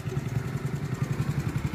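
A trial motorcycle idles at the Baglung trial centre, its engine chugging in a steady, fast pulsing rhythm close by, alone and fairly loud throughout.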